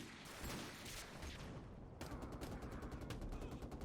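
A 1911 pistol firing in Call of Duty 4: Modern Warfare Remastered, loud sharp gunshots amid dense combat noise, with a rapid series of cracks in the latter half.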